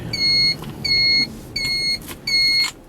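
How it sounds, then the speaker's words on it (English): Four loud electronic beeps from a DIY turn signal alarm flasher with its muffling tape removed, in an even, steady rhythm, each a shrill tone lasting about half a second, over a low engine and road hum. "There's no doubt you're gonna know your turn signal's on with that on."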